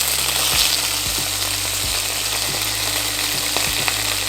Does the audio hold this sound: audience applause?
no